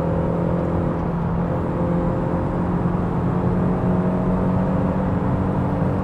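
A 2012 Toyota GT86 engine is downshifted to second gear at about 90, giving a loud, steady drone with rumble and road noise from inside the car and no talk over it.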